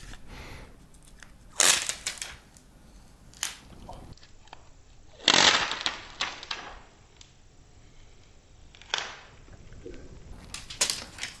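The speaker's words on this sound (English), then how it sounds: "So let's peel off the plastic carefully" Protective plastic film peeled off a Neocore Wave A3.60 budget Bluetooth boom box, heard as several sharp crackling rips and crinkles spread over quiet handling noise.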